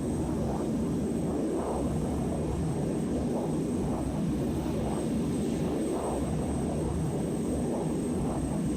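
Steady, loud droning of a propeller airplane engine in the ArmA military video game, holding a constant pitch throughout without voices.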